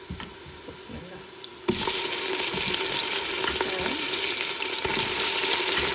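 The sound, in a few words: meat added to golden fried onions sizzling in a pan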